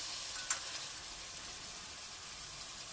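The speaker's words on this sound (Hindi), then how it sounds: "और अब हम इसमें चावल डालेंगे।" Double-steamed basmati rice going into a pan of fried, spiced chicken, pea and potato masala gives a faint, steady hiss of sizzling with a single small tick near the start.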